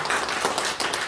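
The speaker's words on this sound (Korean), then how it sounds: "우리 상대방에는 박수 칩시다." Congregation in a Korean church clapping together, a dense, continuous wash of many hands applauding in a room, loud and steady throughout with no talking over it.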